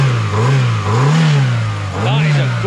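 A low-mileage car engine revs up and down in a few rising and falling surges, close and loud, with someone speaking over it.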